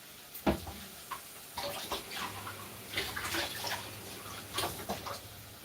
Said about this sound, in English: I'm gonna add this amount of water in here